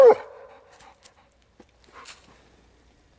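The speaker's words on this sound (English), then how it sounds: "He's a happy dog tonight." A happy dog pants and lets out a short whimpery vocal burst at the start, followed by quieter scattered breaths and snuffles, close by and with no talking.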